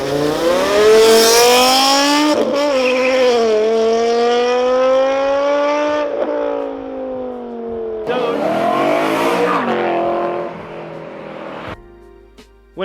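Loud, high-revving engine note from BMW's M3 V8 and M5 V10, the E92 and E60 generations, climbing and holding through long rising sweeps with brief gear-change dips, close and dominant, ending in a cut to quieter sound.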